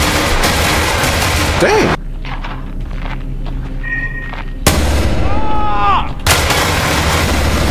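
Gunfire in the Roblox game Hellmet: loud, booming shots and blasts come in bursts with quieter gaps between them, close and heavy, while a player lets out short exclamations.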